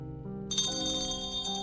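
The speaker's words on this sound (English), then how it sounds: "it rings the bell" A bell rung by pulling a cord in the haunted-mansion video game Foolish Mortals, a bright sustained chime that sets in abruptly and rings steadily, fairly close and clear, with no talk over it.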